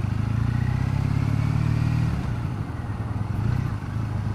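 A 2014 Triumph Bonneville motorcycle engine on a road demo ride, a steady low burbling rumble, loud and close throughout, with the pitch easing slightly partway through.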